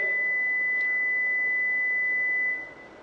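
A Hyundai power trunk sounds a single sustained electronic beep while opening. The clear steady tone holds for about two and a half seconds, then cuts off and leaves a quiet background.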